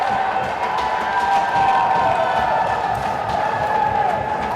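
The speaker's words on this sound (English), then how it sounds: "Big cheer from the crowd" At an open men's field hockey tournament game between South Australia and Queensland, a crowd raises a sustained cheer with scattered clapping, heard steadily throughout at moderate distance.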